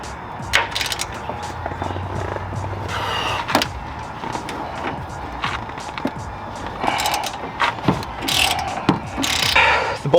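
A hand ratchet loosens 15mm bolts on a Ford Bronco strut during a lift kit install, giving bursts of quick metallic clicking with clanks of tools in between, close up in a garage.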